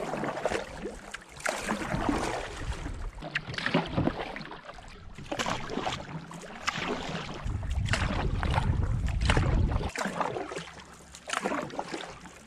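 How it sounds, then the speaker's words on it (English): A canoe paddled on Lillooet Lake, with repeated splashing paddle strokes and water swishing against the hull amid gusty wind buffeting the microphone. "So this is an absolutely awesome place to be canoeing right now."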